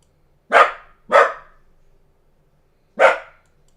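A dog barks three times nearby and loudly, two quick barks followed by a pause and a third, each sharp and clear against a quiet room.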